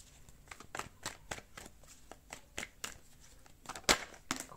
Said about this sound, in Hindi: पहले रुको मैं और कार्ड्स निकाल लेती हूँ